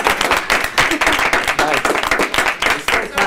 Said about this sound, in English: Clapping right at 1 minute.